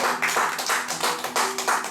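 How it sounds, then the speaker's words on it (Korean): A church congregation bursts into warm applause during a revival worship service, a dense continuous wash of many hands clapping with rhythmic swells, fairly loud and close, with no talking over it. "뜨거운 박수합니다"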